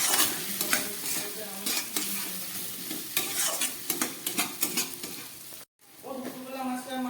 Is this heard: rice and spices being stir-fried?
yes